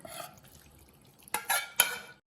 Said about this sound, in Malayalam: നമുക്ക് ഈ വെള്ളം ഊറ്റി കളയാം